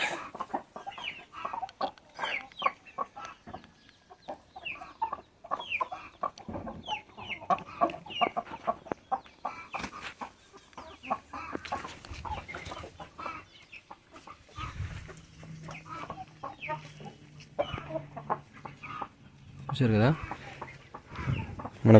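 Game fowl breeder roosters and hens of the Bhimavaram and Medak kinds, including rasangi and double-body birds, cluck and call in steady overlapping bursts close by while someone talks over them.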